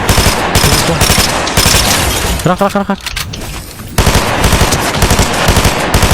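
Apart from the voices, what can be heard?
gunfire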